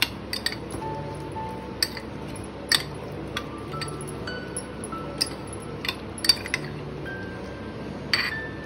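Baingan bharta being mixed with lemon juice in a bowl, heard as scattered clinks and scrapes of a spoon against the dish, sharp little taps at irregular intervals over a soft, steady background.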